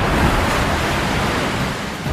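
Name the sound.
ocean waves and surf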